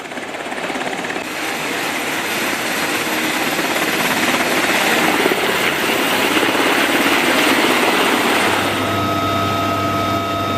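Military helicopters lifting off from a CENTCOM command base, a loud dense rotor and engine roar that builds and holds steady, with a turbine whine emerging toward the end.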